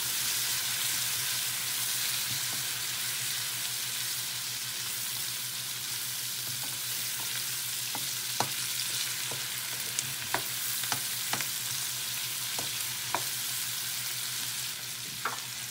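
Prawns sizzle and fry in a pan for seafood sotanghon, a steady bright hiss broken by a scatter of sharp crackles and pops as they are turned, close and alone with no talk.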